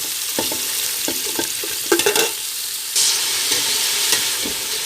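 Onions frying in a cup of oil for beef biryani give a steady close sizzle, broken by stirring scrapes and a louder burst of crackle near the middle, then the sizzle swells again.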